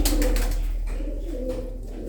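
Close, loud pigeon cooing, a repeated low throaty warble that swells and fades in short phrases, with no talking.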